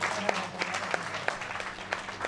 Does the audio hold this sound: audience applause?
yes